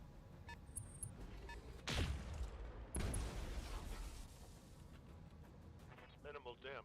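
Single PPC shots from a BattleTech mech battle crack out as two loud broadband blasts about a second apart, each with a rumbling tail, over steady game ambience while a voice talks.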